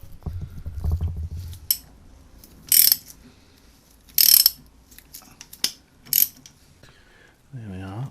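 Ratchet with a 17mm socket working loose a motorcycle engine oil filter, sharp close bursts of rapid clicking separated by pauses, with low muffled handling thuds and a short scraping turn at the end.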